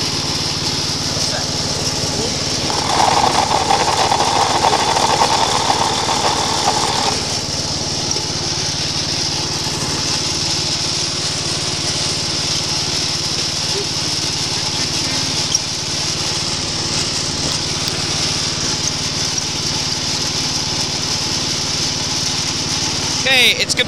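A lawn mower engine runs loud and steady throughout, a continuous droning roar with a slightly brighter patch early on, close by and without pause.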